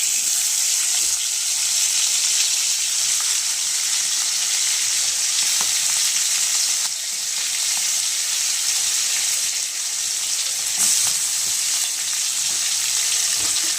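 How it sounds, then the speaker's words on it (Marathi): Stuffed ridge gourd fries in very hot oil with mustard seeds, a loud, close, continuous hissing sizzle that holds steady throughout with small crackles. "फोडणी मारायला तेल ठेवलेलं आहे कडक, त्यामध्ये मोहरी थोडीशी घातली आणि हा भरून घेतलेला दोडका जो आहे तो आपण सोडायचा."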